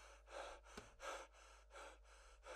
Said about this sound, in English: the heavy breathing is sort of interrupting my little thoughts here